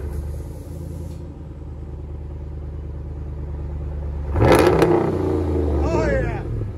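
A RAM 1500 with a 5.7L HEMI V8 and Dynamax race bullet exhaust rumbles deeply at idle, then revs sharply in a loud burst and settles back to a throaty rumble while someone talks.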